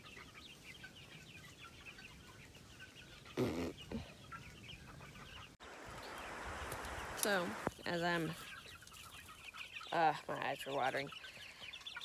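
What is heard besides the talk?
chickens clucking on a farm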